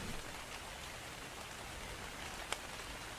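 Rain falls steadily in the video game ARK Survival Evolved at night, a soft, continuous hiss of drops with one brief sharper patter, faint and without talk.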